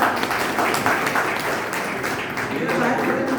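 An audience applauds at a retirement felicitation for a college staff member, a dense continuous patter of many hands clapping throughout, fairly loud and close.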